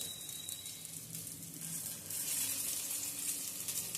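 Poha snack pieces crisping in a hot kadhai over low gas give a steady, moderately quiet sizzle that grows a little louder halfway through, heard alone with no talking.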